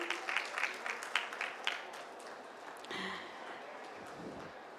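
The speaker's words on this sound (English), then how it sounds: "Can we keep those claps coming?" Applause from a crowd, moderately loud at first with distinct claps, then thinning into a softer wash of clapping and murmur.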